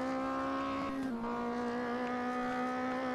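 Rally car engine from the MUD World Rally racing game, a constant buzzing drone heard alone, with a slight dip in pitch about a third of the way through before it settles again.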